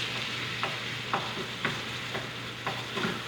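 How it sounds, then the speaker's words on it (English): Hamburger sizzles steadily in a pan with a broad hiss, interrupted every half second or so by the scrape of a utensil stirring. "while this is finishing frying"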